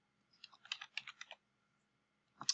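Quick typing on a computer keyboard: a run of about a dozen light, close key taps, a pause, then two or three more keystrokes, all fairly quiet.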